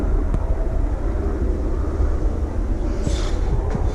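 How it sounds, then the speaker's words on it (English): Helicopters flying overhead give a steady, loud, broadband rumble that holds for the whole stretch with no voices. "Helicopters."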